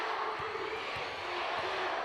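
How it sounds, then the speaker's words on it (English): A home crowd at a women's basketball game between Grand Canyon and Western State makes a steady, rowdy roar that stays fairly faint and even throughout, with a few soft thuds underneath. "Crowd getting rowdy for the last 20 seconds here."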